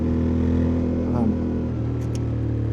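A 2025 Yamaha Tenere 700 motorcycle's engine drones steadily under throttle roll-on, a loud continuous hum with wind rush, while a rider speaks over it.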